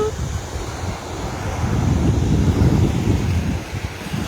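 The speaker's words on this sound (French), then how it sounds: "Voilà les vagues." Ocean surf and gusty wind at a beach, a steady roaring rush of waves that swells slightly through the middle, with wind buffeting the microphone close up.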